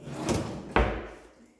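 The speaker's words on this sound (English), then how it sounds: "opening the other side panel. It's been painted shut." A side panel on a painted-shut kitchen cabinet is forced open, giving two close wooden knocks, the second a heavier thud that rings briefly before fading.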